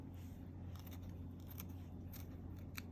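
A knife slices through the middle of a chard leaf to take out the thick stem, giving quiet crisp snips and crackles over a faint, steady low hum in a kitchen.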